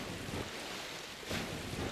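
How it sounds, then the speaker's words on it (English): Water splashing in the Dark Souls 2 Scholar of the First Sin video game, a soft broadband wash with a brief brighter splash near the end, heard alone with no talk. "Oh my god, it actually splashes when you touch it."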